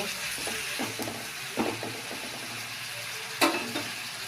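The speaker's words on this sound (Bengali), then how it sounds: "নুন দিয়ে নাড়াচাড়া করব" Bottle gourd is stirred with salt in a pan, a quiet background sizzle broken by irregular soft scrapes and a few sharper utensil knocks against the pan.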